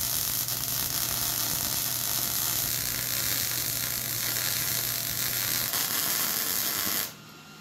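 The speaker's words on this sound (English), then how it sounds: "we got that piece all fully welded" Steel pieces of a DIY car rotisserie are welded with a continuous crackling, buzzing hiss and steady hum that runs loud for about seven seconds before cutting off abruptly.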